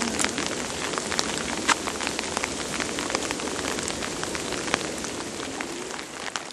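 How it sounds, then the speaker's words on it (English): Steady rain patters on leaves and ground in a lakeside woodland along the Casque-Isles Trail, a dense even hiss with scattered nearer drops ticking out sharply throughout. "How the bees are taking shelter from the rain."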